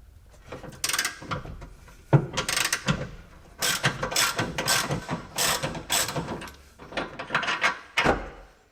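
Ratchet wrench clicking in repeated bursts as a gas strut is removed from the rear suspension of a Jaguar S-Type, close and loud, with short pauses between runs of clicks.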